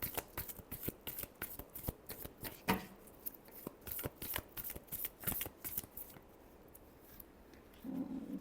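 Tarot cards being shuffled by hand at close range, with quiet, rapid rhythmic riffling and flicking bursts that continue for several seconds before trailing off into softer handling.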